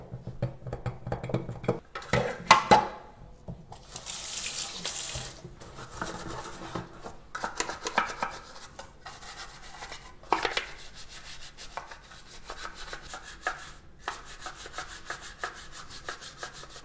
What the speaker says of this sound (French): je vais directement le nettoyer à l'évier avec de l'eau savonneuse